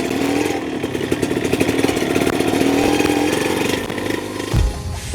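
A Yamaha DT100 trail motorcycle engine drones steadily with a buzzing, revving tone while riding slowly, then a brief louder burst near the end as the throttle changes.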